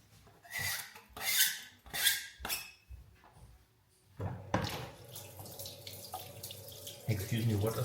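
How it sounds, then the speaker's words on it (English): Tap water running in a kitchen sink during hand washing while cooking, the stream starting partway through and flowing steadily and fairly quietly after several bursts of talk. "let me wash my hands first"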